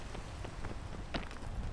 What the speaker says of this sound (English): Dude, can this rain stop? I'd like to climb.